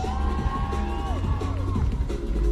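Outdoor crowd at a street car show cheers and whoops for a black BMW, a dense, loud roar of shouts and high whistles with rising yells layered throughout.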